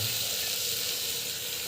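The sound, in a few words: sautéing in a pan, sizzling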